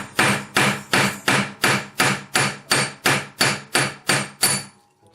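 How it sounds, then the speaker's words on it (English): Hammer striking a metal plate laid over a block, twelve loud, evenly spaced ringing blows about every half second, close and alone, then stopping. "and then we can hammer away"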